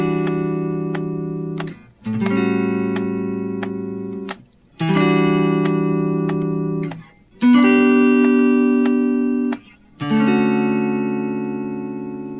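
Electric guitar plays a song's chords, five sustained strums with short gaps between them, loud and close, heard alone.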